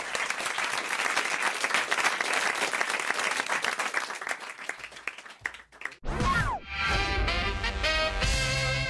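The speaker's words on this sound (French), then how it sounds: "On vous applaudit" A studio audience applauds a radio comedy show, dense sustained clapping for about six seconds that dies away before bright music with a swooping effect takes over.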